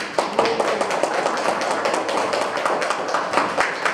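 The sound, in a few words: teachers clapping hands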